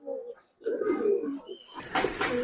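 Pakistani high flyer Giribaz silver pigeon cooing close by in short throaty bursts, followed by rustling handling noise.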